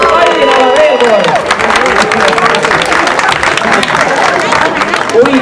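Crowd at a youth contest in Tallinn gives loud applause mixed with cheering and a hubbub of voices, dense and continuous, with a voice talking over it.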